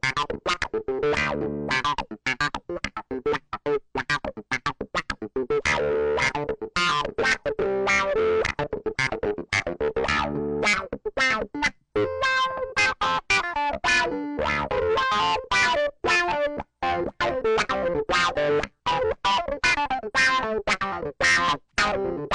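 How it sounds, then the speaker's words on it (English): Hohner D6 clavinet played through a distortion effect, a dense, gritty run of rapid funky notes that carries on loud and steady with no pauses. "Let's put some sort of distortion on that."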